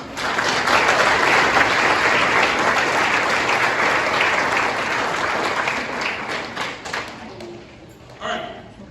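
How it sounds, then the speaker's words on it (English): An audience at a freshman orientation breaks into sustained, loud applause, holding strong for several seconds before tapering off into scattered claps. "So please give them a round of applause for the work that they do."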